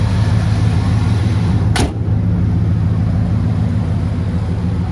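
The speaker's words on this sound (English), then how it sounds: "Really nice, smooth sounding motor." A restored 1968 Chevrolet Impala SS427 with its numbers-matching drivetrain runs at a steady, smooth idle, close and continuous, with a brief sharp click partway through.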